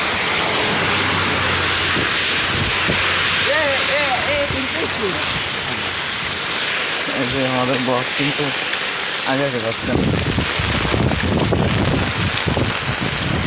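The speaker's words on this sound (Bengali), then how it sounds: "সিরিয়াস বৃষ্টি পড়তেছে কিন্তু" Heavy rain driven by wind pours steadily throughout as a dense, loud roar with gusty buffeting on the microphone; people talk over it from start to finish.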